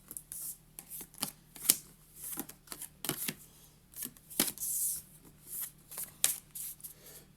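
Pieces and cards from the Destinies board game are gathered and mixed on a table, producing close, quick clattering taps and shuffling snaps in irregular bursts with brief pauses.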